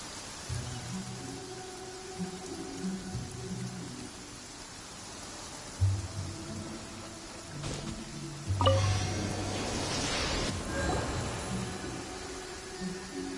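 A rain downpour in a video game makes a steady, broad hiss that runs throughout, mixed with soft game music and a few brighter swells, with no one talking.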